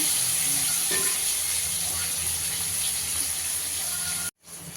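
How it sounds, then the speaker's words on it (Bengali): Potatoes frying in oil, giving a steady, close hiss of sizzling that runs unbroken until a sudden cutoff near the end. "লাল করে আলুটা ভেজে নেব।"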